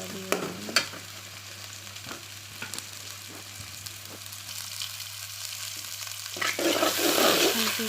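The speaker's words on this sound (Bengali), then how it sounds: "আমি এখানে সাথে সাথে তেল দিয়ে দিলাম, পেঁয়াজ কুচি দিয়ে দিলাম" Chopped onions and green chillies frying in hot oil in a pan, a steady close sizzle with intermittent scraping stirs and a few sharper clatters, the hiss swelling louder toward the end.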